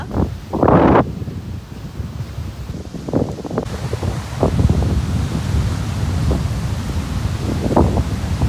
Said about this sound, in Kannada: ಫುಲ್ ಸೌಂಡು, ಅಲೆಗೊಳ್ದು ಮತ್ತು ಗಾಳಿದು.